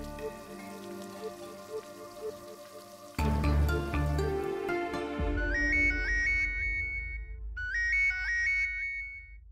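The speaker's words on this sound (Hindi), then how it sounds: "ये रवि भैया फोन क्यों नहीं उठा रहे" A phone's ringtone chimes in repeated melodic bursts over soft background music and ambient noise, ringing on without being picked up.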